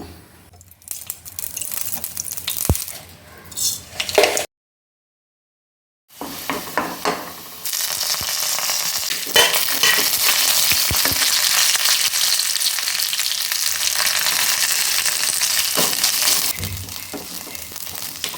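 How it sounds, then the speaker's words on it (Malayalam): Mustard seeds splutter in hot oil, tempering a pumpkin and plantain erissery: a continuous bright crackling hiss with sharp pops. It follows a few earlier clatters and a brief silent gap. "ഇനി നമുക്കിത് കടുക് തളിക്കാം"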